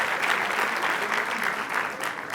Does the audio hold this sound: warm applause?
yes